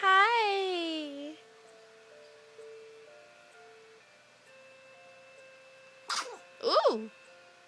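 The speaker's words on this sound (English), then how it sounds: "Bless you. You sneeze?" A small sneeze from a baby near the end, quick and close, after a stretch of sung adult voice and quiet.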